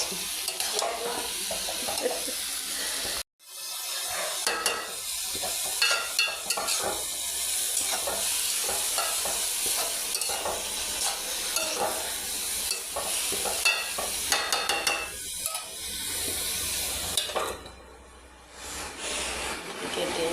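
Vegetable bhaji frying in a pan for breakfast at home, with continuous sizzling and frequent spatula scraping and clatter, interrupted by a brief silent gap early on; faint voices occasionally.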